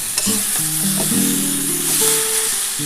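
Tomato goes into hot oil in a pan for a small-fish curry and sets off a loud, continuous sizzle, with a few short tonal scrapes and knocks from stirring over it; no voices.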